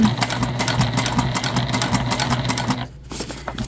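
A sewing machine topstitches a convertible bag, running a rapid, steady mechanical chatter up close. It pauses briefly near the end, then starts again.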